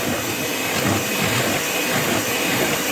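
An electric mixer whirs steadily in a kitchen sink while mixing homemade corn bread batter, a loud continuous motor drone with no pauses and no talking.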